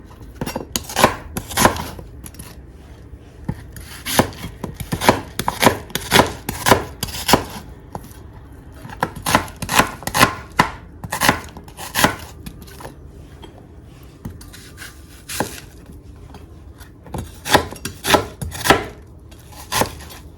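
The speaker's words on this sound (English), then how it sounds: "So go ahead and shred our red onion." Red onion being shredded with a knife on a board for wheat angwamu, a fast, uneven run of sharp close chopping strikes with short pauses, loud and alone.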